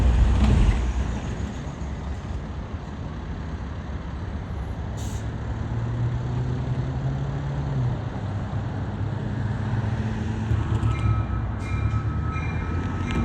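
A Union Pacific local switcher freight train rumbles past close by in Springfield, Oregon, steady wheel and engine noise with occasional squeals and a brief hiss of air brakes.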